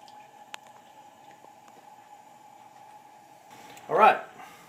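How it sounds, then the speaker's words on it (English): A steady low hum runs throughout, then a short, thick bubbling squelch rises near the end, like gravy starting to bubble in a pan. "Now you can see it's starting to boil a little bit around the edge."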